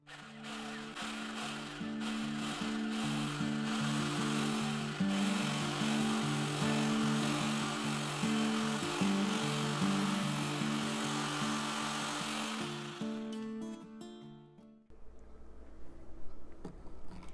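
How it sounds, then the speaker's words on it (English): Whipped body butter ingredients being whisked in a bowl make a steady, loud whirring drone for about fourteen seconds before it cuts off, with quieter clatter afterward. "then you come in with your whisk and we're just going to go ahead and whisk it"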